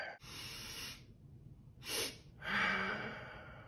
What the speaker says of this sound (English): So it's double inhale followed by an exhale.